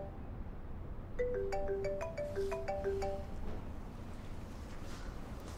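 A phone ringtone signals an incoming call, a short melodic run of clear electronic tones that plays once at low volume over a quiet room background before fading out.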